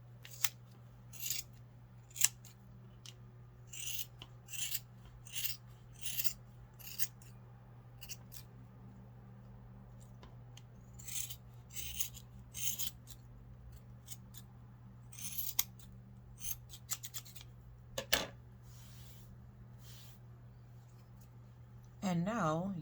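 Scissors snip excess yarn off a pom pom maker, with a series of short, crisp cuts in irregular bursts close by against a quiet hum, and a voice briefly at the end.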